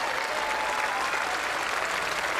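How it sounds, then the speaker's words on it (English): A crowd at a Commonwealth Games men's triples lawn bowls match applauds a Welsh win over Australia, steady sustained clapping filling the venue without a break. "The crowd responding to this win by Wales"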